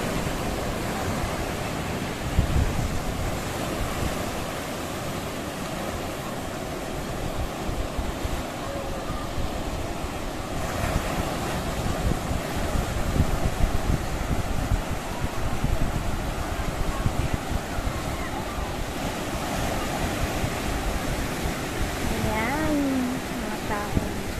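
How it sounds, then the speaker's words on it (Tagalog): Large ocean waves crash and roll continuously at a surfing beach, mixed with gusting wind buffeting the microphone; a voice speaks faintly in the background. "Ang laki ng alon, no?"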